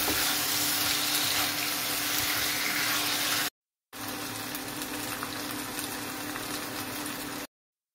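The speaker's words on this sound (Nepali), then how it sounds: "मैले रातो हुने गरेर यसलाई फ्राई गर्नुपर्छ यसरी" Chicken wings frying in a pan, a dense, loud crackling sizzle that runs steadily, cuts out for a brief moment and then resumes before stopping, with no talking.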